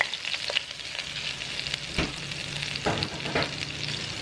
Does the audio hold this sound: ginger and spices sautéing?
yes